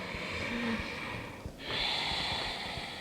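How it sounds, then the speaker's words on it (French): Ujjayi breathing during a vinyasa yoga flow, a slow audible breath drawn through a constricted throat with a soft hiss, a brief pause midway, then a long steady exhale, close and alone. "On peut respirer Ujjayi, par exemple, inspire vers l'avant"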